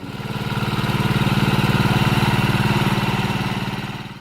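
A Pasquali 986 tiny tractor's small diesel engine of roughly 12 to 18 horsepower runs steadily up close, a fast even clattering pulse that swells in loudness and then eases off slightly, with no voices.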